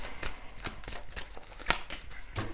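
A deck of cards is shuffled during a tarot-style card reading: a rapid run of crisp riffling and flicking bursts, close and fairly soft, with no talking.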